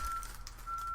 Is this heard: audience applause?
no